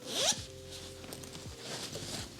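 A small fabric book-themed pouch is unzipped in one quick, close, raspy zipper pull lasting about two seconds, clear and alone without talk.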